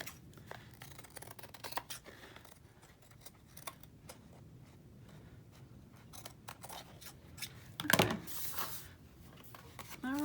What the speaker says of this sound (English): it's easy to follow the edge with the scissors and cut them